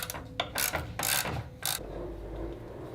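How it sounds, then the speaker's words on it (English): A milling machine with a carbide-tipped cutter facing steel for Damascus, giving several loud broadband bursts of cutting noise in the first two seconds before settling to a low mechanical hum with no talk. "I'm gonna be using this mill right here, little carbide tips on it"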